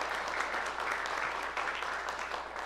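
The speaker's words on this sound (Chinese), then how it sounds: "我们拍手来欢迎他们进入到我们的教会的团契的当中哈" A church congregation at a Christmas Sunday service claps to welcome two newly baptized members, a dense, steady round of applause from a large room, moderately loud and unbroken.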